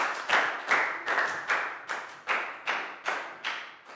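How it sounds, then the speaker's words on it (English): A Year 4 class claps together in a steady rhythm for a classmate, about nine sharp, evenly spaced group claps, close and clear with no talking. "big round of applause for Pangpon, guys."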